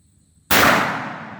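A single loud, close gunshot from a Taurus Raging Judge Magnum revolver firing .45 Long Colt reloads, a sudden blast that decays with a lingering outdoor echo over about a second.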